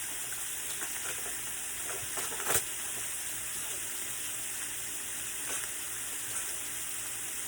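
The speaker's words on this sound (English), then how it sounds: "we're gonna put a half a stick of butter in here" Half a stick of butter melts in a pan for a stir fry, giving a soft, steady sizzle with faint crackles and a couple of brief clinks, quiet and without talk.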